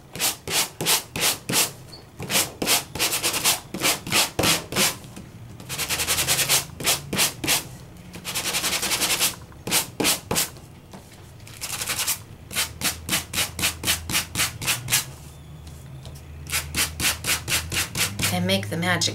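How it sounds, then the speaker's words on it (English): Rhythmic rubbing strokes of a Sand It gadget sanding over embossed paper, near and loud, coming in quick bursts of repeated scrapes separated by brief pauses, with no talking. "Let's take the Sand It gadget."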